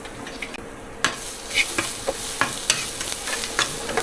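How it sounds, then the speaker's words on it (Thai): Garlic sizzles in a hot pan while it is stir-fried for pad thai, with crackling frying noise and scraping strokes every half second or so. "ขั้นตอนแรกใส่กระเทียมลงไปผัดก่อน"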